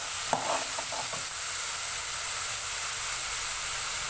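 Chicken and tomatoes cook in a hot pan, giving a steady close sizzle with a brief burst of stirring clatter near the start, then continuous frying hiss alone.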